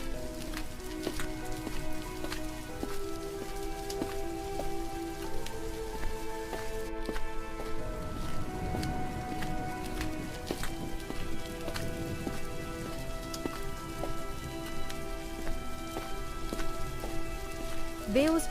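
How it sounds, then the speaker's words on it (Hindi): Heavy monsoon rain pounding steadily on a roof and ground, a dense continuous hiss with scattered louder drips and splashes, close and sustained throughout, no speech. "बारिश बहुत तेज है"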